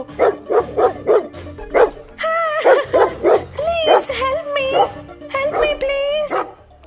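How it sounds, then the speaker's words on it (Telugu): Several dogs bark and yip loudly in rapid bursts as they chase a woman, with whimpering cries mixed in and a voice speaking alongside the barking in an animated village story. "కొంచెం దూరం వెళ్ళిన తర్వాత కుక్కలు ఆమె వెంట పడతాయి"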